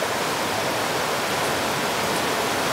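A river flowing past a campsite in the Smoky Mountains near Townsend, Tennessee, gives a steady, broadband rushing wash with no pauses and no voices.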